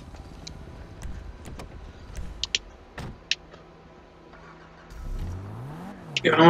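Car in the GTA V video game: door and interior clicks and small thumps, then the engine starts and revs up loudly near the end, rising in pitch.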